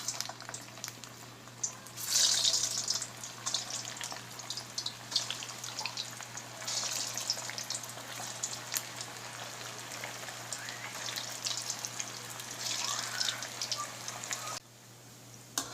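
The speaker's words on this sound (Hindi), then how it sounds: "ऑयल हमारा गर्म हो चुका है और अब हम कोफ्तों को फ्राई कर लेते हैं" Lauki kofte, bottle gourd dumplings, fry in hot oil over medium heat with a steady, hissing sizzle that carries on evenly for several seconds, close, with faint crackles and a low hum underneath.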